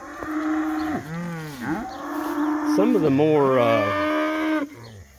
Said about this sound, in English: See, they're all bawling. They're bawling for their babies.